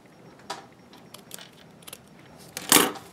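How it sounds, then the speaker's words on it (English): Several short crisp snips and rustles, ending in a louder sharp cut close by, scissors slicing through ribbon. "I'm gonna cut the ribbon"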